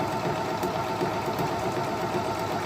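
A Singer Monica 5200 domestic sewing machine running a triple stitch, giving a steady, continuous motor hum with a fast, even rhythmic chatter throughout, fairly close and moderately loud with no voices.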